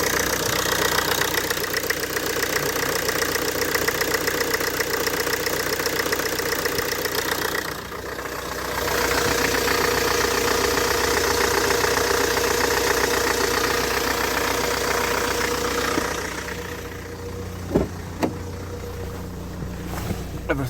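A Ford Focus engine idles after a drive belt and tensioner replacement, a steady close rumble with a brief dip midway and a few knocks near the end.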